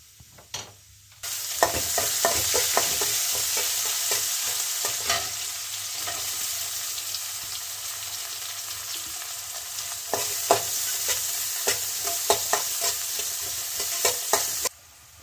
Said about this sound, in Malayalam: ബാക്കിയുള്ള ഇഞ്ചി അണ്ടിപ്പരിപ്പ് അതുപോലെ നമ്മൾ അരിഞ്ഞ് വെച്ചിരിക്കുന്ന സാധനങ്ങളെല്ലാം കൂടി നമുക്ക് അതിലേക്ക് ഇടാം